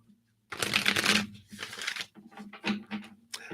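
Tarot cards shuffled by hand in short, crisp riffling bursts, close and fairly loud, with brief pauses between passes and a low hum underneath.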